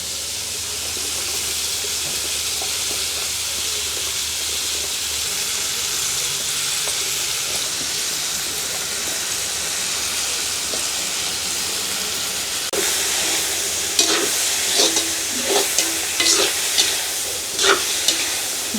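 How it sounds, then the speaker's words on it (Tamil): Leeks, carrot and cabbage sauté in a pan over a village cooking fire, giving a steady close sizzle and hiss throughout. Toward the end, sharper irregular scraping knocks of stirring rise above the frying. "லீக்ஸ் கேரட் அதோட வந்து கோவா எல்லாம் எங்களுக்கு வேகமாக வதங்கிடும் இதுகளை முதல் நாங்கள் போட்டு வதக்கி எடுப்போம்"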